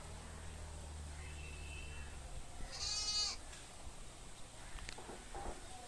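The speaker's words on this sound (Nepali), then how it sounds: "ब्याकग्राउन्डमा चाहिँ बाख्राहरू कराएको आवाज आउँदैछ है" Goats bleat in the background of a rural garden with garlic and orange trees, one faint, brief call rising over steady outdoor ambience, with soft rustles and footsteps afterward.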